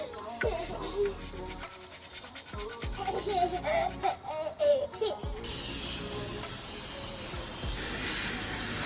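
Scattered clatter and thumps give way to a loud, continuous hiss of cold water spraying car wheels at close range that runs to the end.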